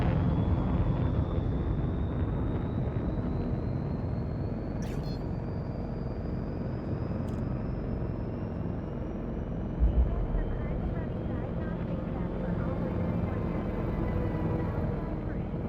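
A spaceship lifts off in the video game Elite Dangerous with a loud, steady engine rumble and roar, a thin rising whine above it and a few brief clicks.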